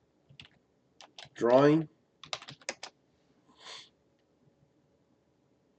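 Someone types initials on a computer keyboard while drafting in CATIA 3D Experience, producing a few sparse, close keystroke clicks in a quiet room. A single spoken word breaks in between the keystrokes.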